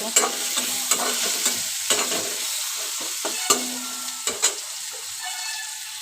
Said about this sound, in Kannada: ಈರುಳ್ಳಿ ಟೊಮೆಟೊ ಈ ಥರ ಮೆತ್ತಗಾಗಬೇಕು ಫುಲ್ಲು ಟೊಮೆಟೊ ಅಲ್ಲಿವರೆಗೂ ಫ್ರೈ ಮಾಡಬೇಕು